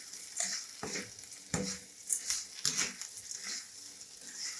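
Flattened rice poha is stirred around a hot pan, giving soft irregular scrapes and rustles over a light sizzle, close by and without speech.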